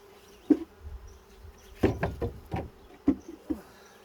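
Honeybees hum in a low, steady drone during a hive inspection, broken by sharp knocks and clunks of handled hive parts and a feeder, close by.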